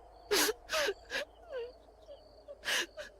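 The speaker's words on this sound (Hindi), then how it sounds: "तभी किसी की रोने की आवाज आई।" A woman cries and wails in short, breathy sobbing bursts with rising and falling moans, close and fairly loud, as a sound effect in a spoken Hindi ghost story.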